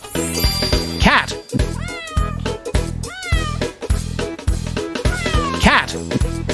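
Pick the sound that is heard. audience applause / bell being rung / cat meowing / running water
cat meowing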